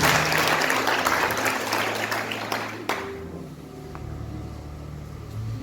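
A church congregation at an Easter service at GBI Altar Filadelfia in Jakarta claps enthusiastically for about three seconds, the applause dropping off sharply into a quieter room hum with a low sustained tone.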